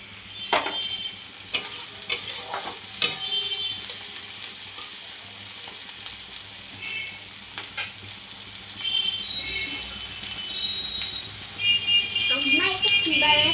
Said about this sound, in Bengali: পেঁয়াজটা লাল লাল করে ভাজা হয়ে গিয়েছে